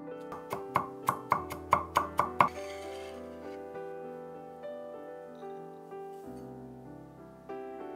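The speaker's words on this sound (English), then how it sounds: "Chop 4 cloves of garlic." A knife chops garlic cloves on a board, about ten quick, crisp strikes in a steady rhythm, fading into soft music with no further cuts.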